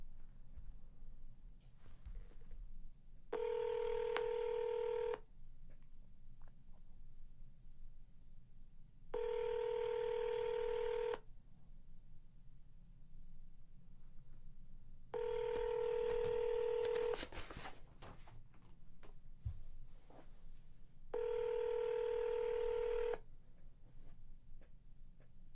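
A telephone call to Wadsworth, Illinois City Hall rings out as four evenly spaced two-second tone bursts over a faint hum, each followed by a few seconds of quiet.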